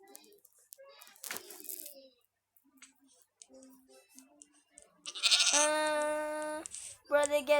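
A baby goat lets out a long, loud, quavering bleat near the end, preceded by quieter scattered noises and brief clatter, with another short bleat starting just after.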